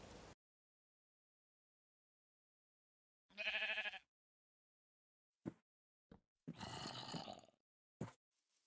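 A sheep in the Minecraft video game gives a short, nasal bleat, with a few brief clicks and a longer rough burst of sound later against otherwise near silence.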